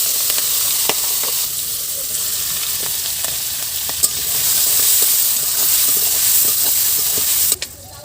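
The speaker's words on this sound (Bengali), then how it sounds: "কড়াইতে প্রথমে তেল দিয়ে দেব, তেলের মধ্যে দিয়ে দেব লবণ, দিয়ে দেব হলুদ, এখন মাছ দিয়ে দেব" Fish frying in a wok of hot oil with salt and turmeric, a steady loud sizzle and hiss with occasional pops and stirring clicks, no voices.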